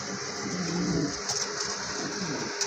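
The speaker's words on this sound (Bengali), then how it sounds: "এটা হচ্ছে আপনার রেড চেকার কবুতর" A pair of red checker pigeons coo softly and close by, low throaty murmurs rising and falling over a light background hiss.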